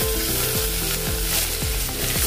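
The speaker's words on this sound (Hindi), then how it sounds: "इसको भी हमने भून लिया है अदरक लहसुन के पेस्ट को" Ginger garlic paste frying in a pan, a steady loud sizzle with rhythmic scraping strokes every half second or so, close up and with no voices.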